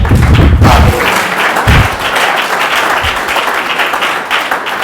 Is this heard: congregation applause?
yes